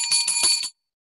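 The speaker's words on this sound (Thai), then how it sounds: "เดี๋ยวผมจะกดกระดิ่งเคาะรอไปเรื่อย" A push bell is struck several times in quick succession, giving bright, ringing metallic tones up close before it falls abruptly silent.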